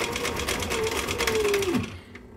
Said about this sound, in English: whip a bunch of these out if you're doing them on a sewing machine